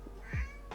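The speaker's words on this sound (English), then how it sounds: "That was my cat Akko." A pet cat named Akko gives one short, close meow indoors, clear and alone, with no talking over it.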